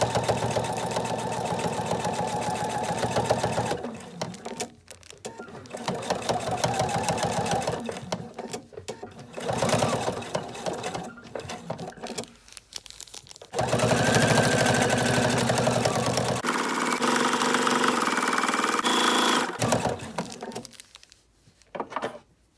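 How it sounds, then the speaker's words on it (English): A domestic sewing machine stitches fabric around a baby gift in long steady bursts with short pauses between runs, a close, even mechanical whir and rattle. "Remove this and do a fixed stitch and just sew all the way around."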